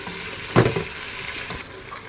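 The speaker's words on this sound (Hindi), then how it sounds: "प्याज हमारा सौते हो रहा है" Onions sautéing in a bowlful of oil for a degi-style chicken palak, giving a soft steady sizzle with a brief louder clatter of stirring near the start.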